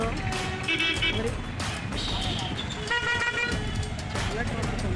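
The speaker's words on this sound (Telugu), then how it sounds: "ఎంత ట్రాఫిక్ ఉందో మరి" Busy road traffic in Amalapuram with car horns honking repeatedly, several short loud toots and longer blasts over the engine rumble, while people talk nearby.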